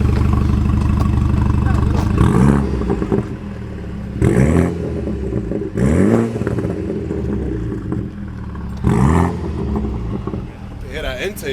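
A BMW F31 wagon with a CTS Turbo catted downpipe idles and blips, its exhaust burbling loud and close in several rising revs, with people talking over it.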